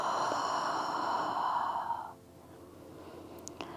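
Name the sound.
slow exhale during yoga breathing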